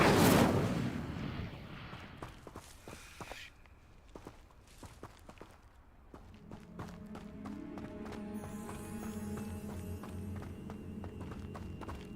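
A fire spell is cast in the Hogwarts Legacy video game, opening with a loud fiery whoosh that fades into crackling, followed by scattered footsteps, thuds and a sustained tonal game soundscape.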